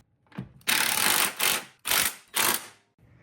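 A ratchet tightens the strut nuts on a Subaru Forester in several quick bursts of rapid clicking, each lasting about half a second with short pauses between, close and clear with no talking.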